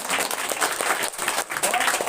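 Students at a school prize distribution in Jharkhand clap loudly for a top-ranked winner, a dense and steady burst of applause filling the room with little break.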